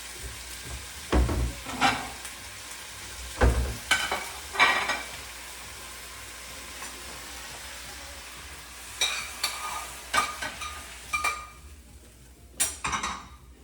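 Spinach tossed and stirred in a frying pan, with bursts of sizzling and scraping as the leaves are flipped, separated by quieter stretches of low frying hiss; near and moderately loud, with no talking.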